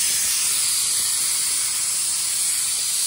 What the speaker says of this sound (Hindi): ये मैंने डाल दिए खड़े मसाले, इसमें डाल दिए मैंने थोड़ी सी हींग, और डाल दिया है मैंने इसमें जीरा